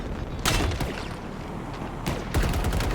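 Gunfire in Halo Infinite aimed at a brute sniper: loud bursts of shots, one near the start and a cluster late on, over a steady game soundscape.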